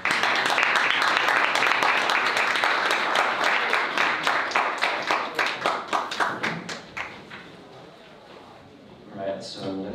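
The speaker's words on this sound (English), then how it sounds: "give him a round of applause again" A meetup audience in Seoul applauds a presenter, dense clapping that thins into a few distinct claps and fades out, followed by a short bit of talk near the end.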